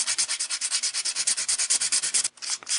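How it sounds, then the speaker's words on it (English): Sandpaper rubs a watercolor paper pendant in quick, even back-and-forth strokes, about a dozen rhythmic rasping passes close up, a short pause, then a couple more strokes, with no talking. "the finishing touch up is done with"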